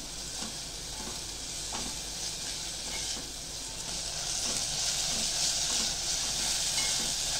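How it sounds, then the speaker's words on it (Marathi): Steady sizzling and frying hiss of tomatoes sautéing in a tempering in a hot pan, with occasional soft stirring taps, continuous and fairly close, no voices. "ते आपले टोमॅटो पण छान परतून झाले"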